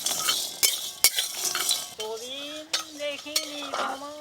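Whole garam masala, fennel, peppercorns, coriander, cumin and almonds or cashews are dry-roasted in a pan, a utensil scraping and clinking as they are stirred, with a faint whistling tone running underneath.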